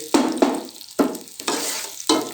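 Onions fry in a pan for chicken pulao, sizzling loudly close by as a spoon stirs them in four or five distinct strokes.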